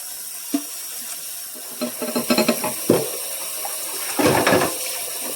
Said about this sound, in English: I'm going to start filling up the sinks so I can wash and rinse